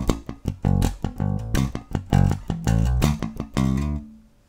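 A bass guitar plays a short two-bar lick with muted ghost notes and a hammer-on, plucked notes sounding clear and close before the last note rings out alone.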